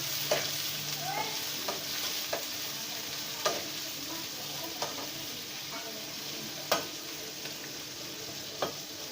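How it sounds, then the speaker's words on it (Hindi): Onions browning in hot oil in a large pot for chicken biryani, with a steady close sizzle broken by regular scrapes and knocks of a stirring spoon against the pan. "प्याज को अच्छे तरीके से ब्राउन करना है।"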